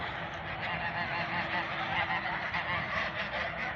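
A crowded flock of geese and drakes on a farmstead in autumn honks and quacks in a dense, continuous chorus, nearby and steady throughout.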